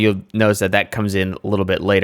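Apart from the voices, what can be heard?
None of the usual background noises is heard.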